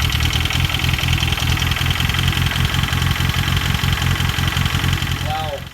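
A Ford Escort RS Turbo engine idles steadily after four years of sitting, a loud, continuous rumble with a rapid knocking pulse throughout, close to the car.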